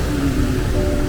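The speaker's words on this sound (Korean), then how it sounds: "이 폭포 소리 들리세요?" A constant roaring rush of a waterfall on a Palenque tour in Mexico, loud and close, a dense broadband wash with no pauses or voices.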